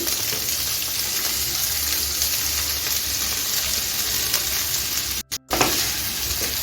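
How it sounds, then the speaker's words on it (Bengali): Chopped vegetables with ginger and green chili stir-fry in a hot pan, giving a loud, steady close sizzle with stirring scrapes, broken briefly by two short dropouts near the end. "এখন আমি কেটে রাখা সবজিটা দিয়ে দিচ্ছি"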